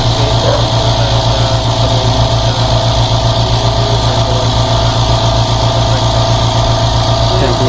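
The air compressor of a dental chair runs continuously, a loud, steady motor hum with pulsing vibration and no break, heard close up.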